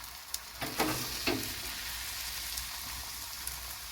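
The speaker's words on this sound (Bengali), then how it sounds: "এটাকেও একটু ছড়িয়ে দেবো ভালো করে।" Beaten egg omelette with onion and green chilli frying in a hot pan, a steady soft sizzle with a few brief crackles, close and alone, no voices.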